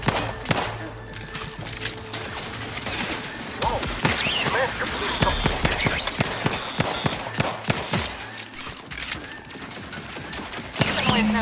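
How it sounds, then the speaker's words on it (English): Rapid gunfire in the video game The Outer Worlds 2, dense bursts of automatic shots and impacts filling the scene, loud and continuous, with a voice speaking in places and game music underneath. "Let's do some shooting."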